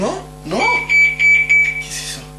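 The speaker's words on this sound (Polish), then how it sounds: "To dzwonek alarmowy." An alarm bell rings in a drama scene, a steady high electronic tone with pulsing bursts going on for under two seconds, heard over people talking.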